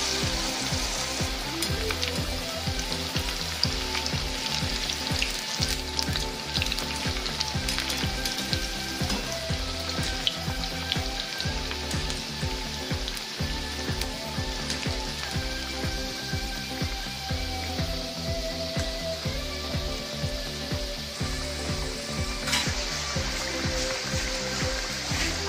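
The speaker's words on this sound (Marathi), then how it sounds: "आता आपण तळून घेत आहोत" Snacks deep frying in hot oil over medium heat, a dense, steady, loud sizzle and bubbling that runs unbroken throughout, close up, with no speech.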